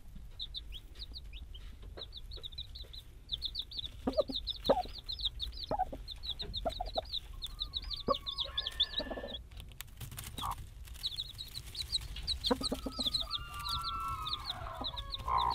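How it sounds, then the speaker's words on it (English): Icelandic black chickens clucking in a far-north backyard flock with chicks, repeated close chattering clucks and occasional longer calls over a low background hum, no talking. "This is an Icelandic black chicken."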